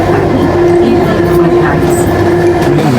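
A Bangalore metro train pulls into a busy station, producing a loud, steady rumble with a sustained mechanical hum that fills the whole stretch, and crowd murmur sits faintly underneath.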